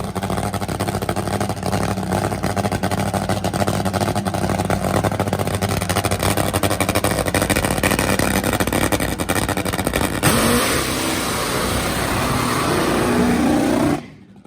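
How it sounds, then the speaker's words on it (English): A loud, rough engine roar from a nitro top fuel drag motorcycle doing a burnout, running on three cylinders, runs continuously and then shifts into a harsher, rasping burst before cutting off abruptly at the end. "that burnout didn't sound good. Sounds like that thing's running on 3 cylinders"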